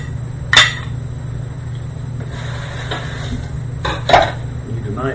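A bowl and dishes are set down in a kitchen, giving two sharp clattering knocks a few seconds apart over a low steady hum, with a voice speaking briefly.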